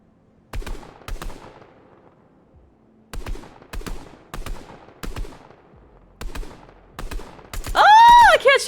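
Video game gunfire sounds as sharp, separate shots in small clusters of two or three, loud and close against a quiet background, ending under a louder burst of game sound.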